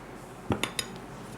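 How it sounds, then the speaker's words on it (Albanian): A spoon clinks three times against a bowl while zebra cake batter of egg whites, vanilla sugar and flour is gently stirred, each tap short and bright over a quiet room. "me kujdes e përziejmë në të njëjtin drejtim"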